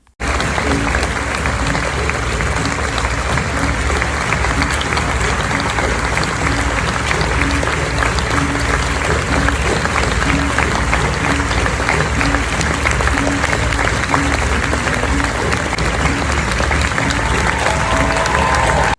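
Loud, sustained applause from a large theatre audience after a Romeo and Juliet performance, dense continuous clapping filling the whole stretch without a break.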